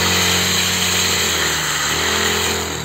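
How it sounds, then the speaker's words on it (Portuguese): A child cutting tall weeds with a small gasoline brush cutter, the engine droning loud and steady close by for the whole stretch with a slight dip in pitch near the end, no talk. "Porque não estava vendo a hora de dar uma roçadinha no mato."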